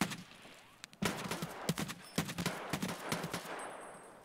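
Pistol fire in Escape from Tarkov, a series of sharp, separate shots at an irregular pace, some loud and close and others fainter, with distant echo trailing off.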